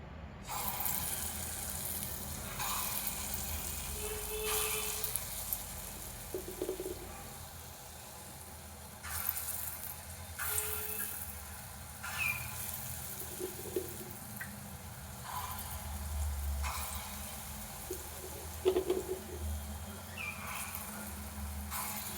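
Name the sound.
lentil fritters (bora) frying in hot oil in a wok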